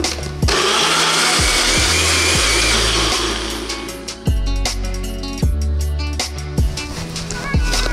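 A blender whirs loudly as it purees beet and salad greens with about 200 ml of water, the motor running in repeated bursts that stop and restart, each start-up loud and grinding.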